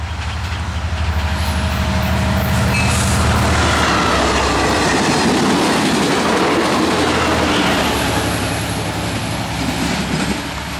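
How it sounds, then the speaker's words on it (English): Amtrak 74 Piedmont passenger train passing northbound near Lee, a loud continuous rumble and rush of wheels on rails with clickety-clack, close by and sustained throughout. "And coming north, it's going to be Amtrak 74,"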